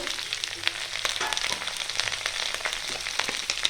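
Vegetables for cabbage chorchori sizzle and crackle in hot oil, a steady close frying hiss with scattered pops and an occasional stir.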